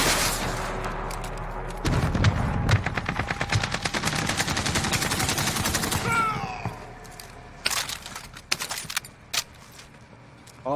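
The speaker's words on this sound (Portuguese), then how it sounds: "Já tô ouvindo tiro." Rapid gunfire in a Warzone match, bursts of automatic shots crackling through most of the stretch with a brief whooshing sweep midway, then sparser shots toward the end, loud and close.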